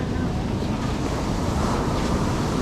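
Sea waves wash continuously onto a shore beside a boat being pushed into the water, a loud rumbling surf mixed with heavy wind buffeting the microphone throughout.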